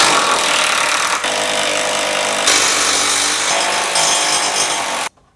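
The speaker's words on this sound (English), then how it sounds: "Your crash bar is held on by 4 18mm bolts. Just go ahead and remove them." A loud power tool whines and rattles continuously up close as it removes the 18mm bolts holding a bent car crash bar, with brief dips in pitch before stopping abruptly.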